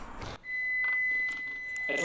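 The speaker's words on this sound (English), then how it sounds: "Oh, that's the ending alarm." A cooking timer's end alarm sounds in a kitchen as one steady, thin, high electronic tone held for well over a second, moderately quiet, with brief faint clatter and voice fragments around it.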